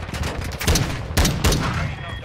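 Three loud gunshots spaced irregularly over a couple of seconds during a 6v6 Hardpoint match in the video game Call of Duty: Modern Warfare, over steady background game noise.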